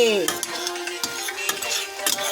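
A spoon stirs golden raisins frying in a pan while aval payasam is being made, giving light scraping and clinking taps at an uneven pace over a faint sizzle.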